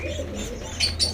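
Pigeons with squabs in a nest, giving a few soft coos and brief chirps at close range over a low steady hum, with two brighter calls near the end.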